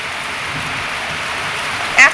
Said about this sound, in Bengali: এত বৃষ্টি পড়ছে